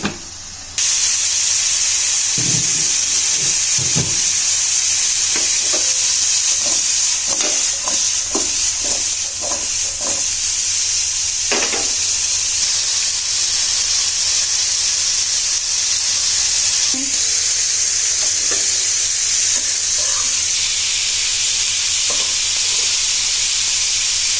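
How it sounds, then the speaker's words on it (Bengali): Cauliflower and potatoes frying in a pan give a loud steady sizzle, with scattered scrapes and clinks of a utensil as they are stirred. "একটু নেড়ে চেড়ে দেব।"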